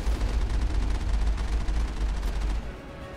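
Enemy gunfire in Mass Effect, a dense rapid rattle of shots with deep rumbling booms underneath, loud and continuous before easing off at the end.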